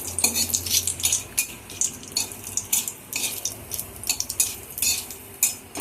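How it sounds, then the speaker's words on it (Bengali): Bay leaf and dried chili fry in hot oil in a pan, a soft sizzle broken by irregular clinks and scrapes of a utensil stirring, close and fairly quiet, with no talking. "ভাজা হচ্ছে তেজপাতা।"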